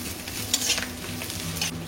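Grated coconut frying in a pan, a steady close sizzle with a couple of brief scraping stirs of a spoon, continuous and fairly loud with no voices.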